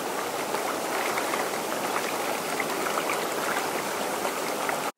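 Hot tub at night bubbling in a dense, steady fizzing and churning of water, close by and continuous, with no voices, cutting off abruptly at the end.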